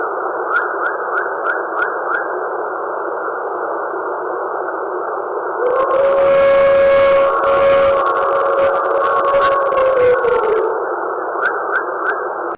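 A long, wavering animal howl rises and holds for several seconds over a muffled band of background noise, with faint clicks before and after.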